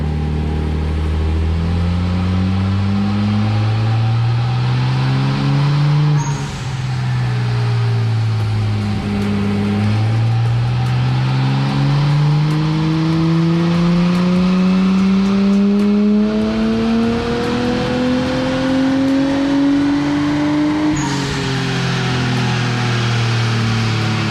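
A Nissan Skyline R33 GTST on a dyno, with stock injectors at about 0.8 bar of boost, revs hard toward its 7,200 rpm limiter. A loud, continuous engine note climbs steadily in pitch over repeated pulls, each drop followed by another rising sweep.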